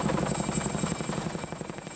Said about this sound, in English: A U.S. Army helicopter was sent in to airlift the remains out of the ravine.